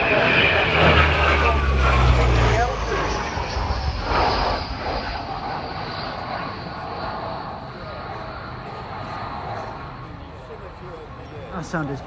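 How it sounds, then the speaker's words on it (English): At an airfield airshow, a French Navy Atlantique ATL2 patrol aircraft flies a display, its loud propeller-engine drone rising then slowly fading as it passes, with a low rumble early on and some crowd noise beneath. "a tremendous display of an aircraft we've never seen in the flying programme at the airfield for a very long time"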